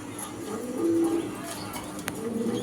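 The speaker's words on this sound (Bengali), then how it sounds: "এই ভাই আবার ডাকেও তো ভাই তাহলে ফুল অ্যাক্টিভ কবুতর" A pigeon kept for sale coos nearby, its low, soft, drawn-out calls rising briefly over a busy background of murmur and faint chirps.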